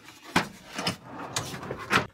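A wooden drawer in a craftsman's fitted work van slides open with a few short scraping and knocking sounds, close and moderately quiet.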